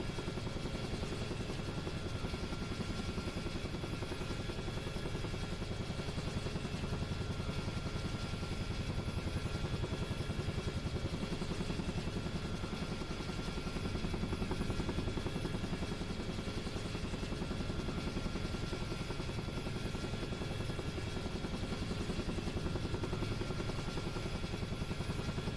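A UH-1H helicopter in flight on a training sortie makes a constant, dense rotor and turbine drone that fills the whole stretch without letup, with no talking over it.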